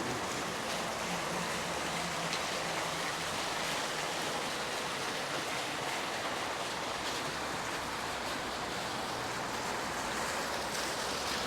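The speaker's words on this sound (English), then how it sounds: "Some nice fountains at the end." Park fountains in Coral Bay's linear park splash continuously, a loud, even wash of falling water that holds steady throughout with no talk.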